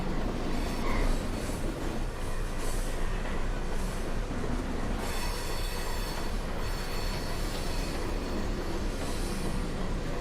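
Trains roll past in the Trainz Simulator 2019 game, a continuous dense rumble of wheels on rails with metallic squeals and faint clicking throughout, steady and fairly loud, without speech.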